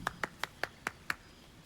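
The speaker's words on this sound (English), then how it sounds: "Should I clap? I'll clap for it." Six sharp hand claps in an uneven, slightly slowing rhythm, close and fairly quiet, with no voices.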